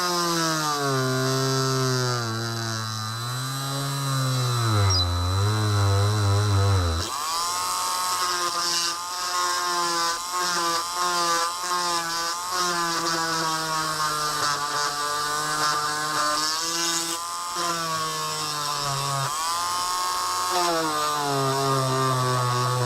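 A Lidl Dremel-style rotary tool whines close up while working on an early-1960s Roberts R200 radio, its pitch sliding and wavering as load changes, then settling into a sustained high, buzzing drone.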